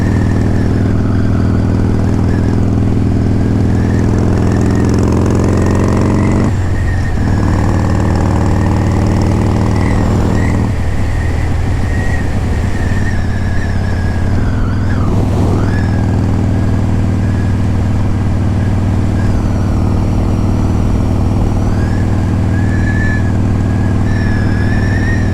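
Softail motorcycle engine heard while riding on an evening road, a loud, steady low rumble with shifting harmonics and wind noise, no voices.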